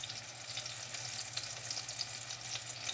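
Apple fritter batter sizzling steadily in hot frying oil, a continuous, even crackle with faint pops and no voices.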